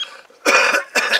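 A person coughs twice, close and loud, with two harsh bursts separated by a short pause after a brief faint lead-in.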